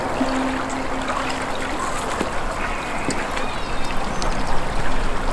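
Steady trickling and flowing water of a small creek in Aachen while a water sample is taken, a continuous close babble with faint occasional splashes and clinks.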